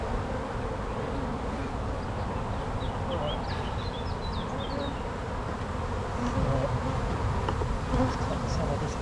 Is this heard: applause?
no